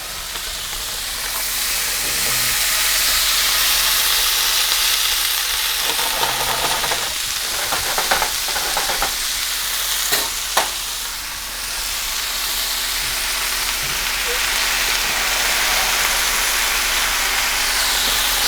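Green beans sear loudly in a hot, smoking pan, a continuous hiss and sizzle with a few clattering bumps partway through.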